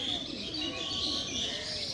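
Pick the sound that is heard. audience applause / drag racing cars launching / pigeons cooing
pigeons cooing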